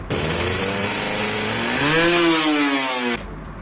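A Kawasaki Ninja 150cc two-stroke motorcycle engine revs hard, with a buzzing, rising pitch that climbs and holds near the top before cutting off abruptly, loud and close.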